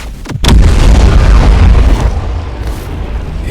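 Stoic Bomb ability explosions from the Roblox game The Strongest Battlegrounds: a sharp pop, then a loud, sustained rumbling blast that rolls on for several seconds and slowly tapers.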